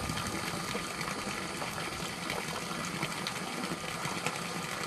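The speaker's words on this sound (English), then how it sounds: "Water's still coming out really good." A solar-powered pump draws water out of a bucket, giving a steady, dense rush and gurgle of flowing water with a faint motor whir underneath, continuous and close with no talking.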